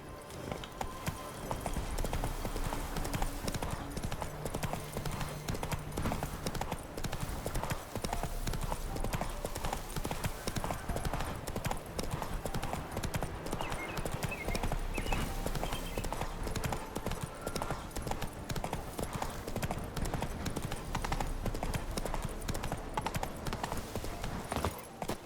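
Roach's hooves gallop across Velen in The Witcher 3: Wild Hunt, a fast, steady clip-clop that runs without a break, close and clear, with a bit of game sound behind it.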